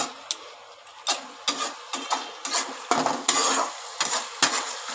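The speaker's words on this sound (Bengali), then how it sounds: "ভালো করে নেড়ে নেব।" Pasta tossed with sauce in a frying pan, a utensil scraping and clinking against the pan in irregular strokes roughly every half second over a low sizzle, close and moderately loud with no talking.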